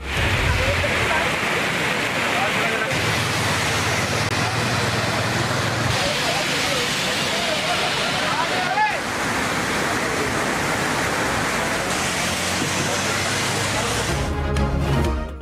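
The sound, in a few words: heavy rain pouring in Rawalpindi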